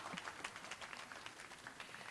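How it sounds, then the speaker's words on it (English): Faint scattered clapping from an audience at a retirement reception, a small group heard at a distance with a steady patter of individual claps throughout. "You can clap again."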